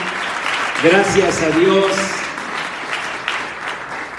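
A church congregation breaks into applause, a broad wash of clapping under a spoken voice that briefly speaks over it, then continuing at moderate level.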